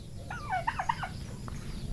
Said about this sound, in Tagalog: Pabo natin mga lodi oh.